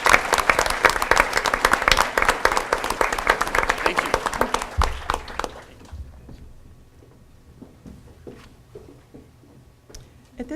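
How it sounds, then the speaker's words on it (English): Loud, dense applause from a crowd at a school board meeting for about five seconds, then fading to scattered claps and a few quiet words spoken. "one more round of applause for our Power of the Pen State qualifiers"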